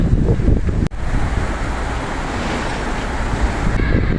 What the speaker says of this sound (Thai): ดูลมข้างบนค่ะพัดแบบกระหน่ำมากๆเลย